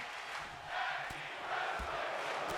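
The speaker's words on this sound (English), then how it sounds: "Tag team wrestling chants in the crowd, Rocket." Crowd at a ShockWrestling tag team wrestling show, a steady roar of massed voices with a rhythmic chant rising and falling, heard from within the arena and fairly loud throughout.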